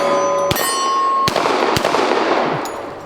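Pistol that takes Glock 17 magazines, fired weak-handed at a pumpkin outdoors. Three loud, close, separate shots come about half a second apart, with a ringing tone and echo decaying between them.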